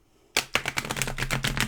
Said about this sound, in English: Cards are very stiff as well,